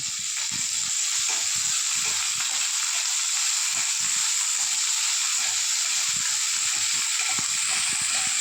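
Garlic, ginger and green chilli fry in a little oil for a Mangalore-style pork chilli, making a loud, continuous hiss and sizzle with scattered low crackles and pops throughout.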